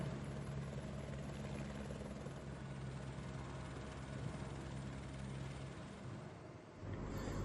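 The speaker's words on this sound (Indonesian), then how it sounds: "Proses evakuasi pun harus dilakukan dengan menggunakan helikopter." An evacuation helicopter flies during a mountain rescue near Puncak Carstensz, its steady rotor and engine drone filling the clip at a constant level, dipping briefly near the end before returning.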